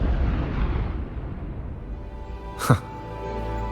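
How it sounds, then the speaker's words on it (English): A single sharp explosion in the video game Wuthering Waves bursts out near the end, a brief loud boom rising over a low rumbling background. "What caused the explosion?"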